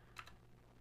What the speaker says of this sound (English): We can type in random keys